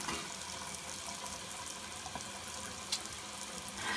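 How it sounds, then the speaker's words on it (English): Bathroom tap water running steadily into a sink, a continuous close splashing hiss with a small clink near the end and no talking. "So I'm just gonna let the water get warm."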